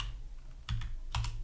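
Two short bursts of keyboard key clicks, a quick pair of taps followed by another pair, close up over a low steady hum.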